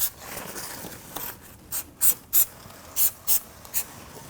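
Several short bursts of hissing spray from a can of anti-seize compound in quick succession, close by, with brief pauses between them and faint rubbing before, during rear suspension knuckle work on a Chrysler 300.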